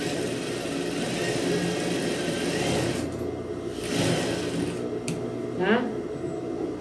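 Sewing machine running steadily as it stitches a seam on a dish towel, a continuous close motor whir with slight speed changes, while someone talks over it.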